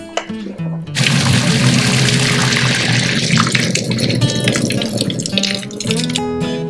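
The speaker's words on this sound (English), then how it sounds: "So let's go ahead and drain that." Pot of cooked spaghetti being drained, water gushing out loudly and steadily for several seconds, then tapering off to a trickle and drips.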